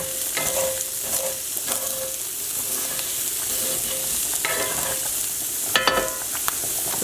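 Shrimp and chorizo sizzle steadily in a hot pan for Spanish-style spaghetti, with scattered stirring scrapes and clinks over the continuous frying hiss, close and fairly loud.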